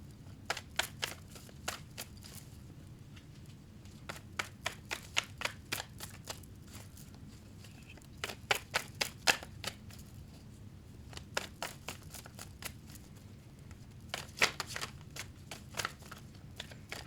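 A personal tarot card deck being shuffled, producing bursts of quick riffling clicks in several rounds with short pauses between, close and fairly soft over a low background hum.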